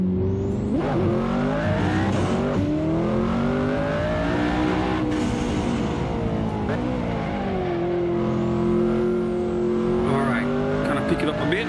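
A McLaren race car in the Assetto Corsa racing game revs hard and continuously, its engine pitch climbing and dropping through gear changes, loud and dominant from start to finish.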